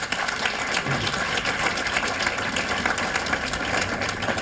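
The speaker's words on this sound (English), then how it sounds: "Let's give a great round of applause to Precious Sutton." An audience gives a sustained round of applause for Precious Sutton, dense and even clapping that fills the room without a break.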